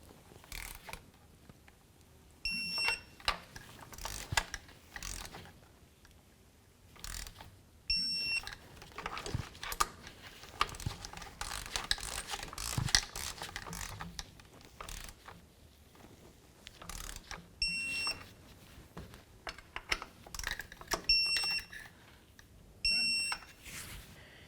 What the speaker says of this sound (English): now let's torque these to 89 inch-pounds